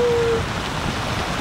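Rain falling on Mauritius amid changeable weather: a steady, dense hiss of drops that continues without a break, close by, with a brief faint tone at the start and no speech.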